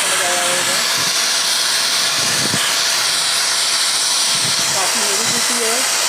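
An INGCO 4-inch angle grinder (750W or 900W) runs steadily, giving a loud continuous hissing whir with no pauses while someone talks over it.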